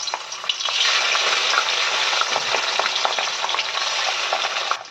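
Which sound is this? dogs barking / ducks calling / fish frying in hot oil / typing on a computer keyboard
fish frying in hot oil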